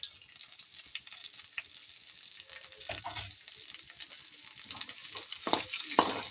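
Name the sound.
sliced onions frying in oil for beef roast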